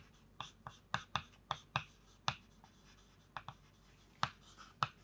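Chalk or marker strokes on a board during a chemistry lecture on periodic trends in atomic radii, a dozen or so short scratchy bursts in uneven clusters with pauses between, close and clear and without talk.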